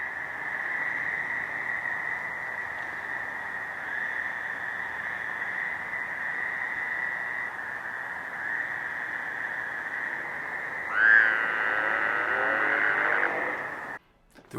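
Many male Fowler's toads call together at Ridgeside Lake, their long nasal trills merging into a steady, continuous drone that swells briefly near the end before cutting off.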